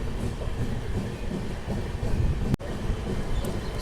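Continuous low rumble of a superfast express train running from Visakhapatnam Junction to Lingampalli, steady and fairly loud, with one brief sharp break partway through and no talking.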